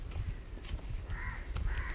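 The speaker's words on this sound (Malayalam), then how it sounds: "കാക്കയൊക്കെ അടി വന്നിരിക്കുന്നു" Crows caw around a backyard where chickens are kept, with a few hoarse calls standing out over steady outdoor rumble and rustling.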